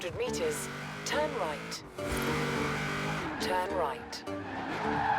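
A Nissan GT-R R33 in the racing game Forza Horizon 4 brakes and skids, tires squealing in several sharp bursts over a revving engine, loud and continuous, with game music and a voice talking underneath.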